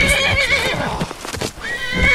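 A horse in the video game Skyrim neighs loudly and close, a shrill whinny rising and falling over about two seconds amid game sounds, with hoof clatter underneath.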